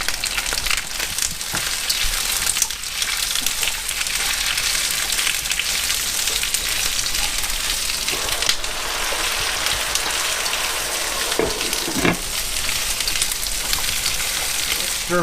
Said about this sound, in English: Adding some garlic into the olive oil, and then we'll be ready here shortly to start doing the stir fry.